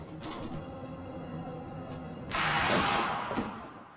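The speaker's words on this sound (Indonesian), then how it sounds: "mencoba membuka pintu-pintu apartemen, tetapi tak ada satupun yang terbuka" A door being tried in an apartment corridor in a thriller film: low mechanical rattles and creaks, then a louder burst of scraping noise partway through, with no talk.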